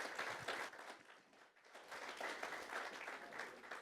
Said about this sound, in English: Give our sheriff another round of applause.